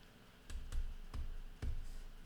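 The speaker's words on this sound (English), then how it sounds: "so let me just type" Several sharp keystrokes on a computer keyboard, four or five distinct clicks spaced unevenly over about two seconds, close and fairly quiet, with no speech.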